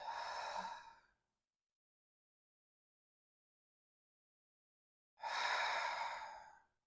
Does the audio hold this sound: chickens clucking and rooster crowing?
no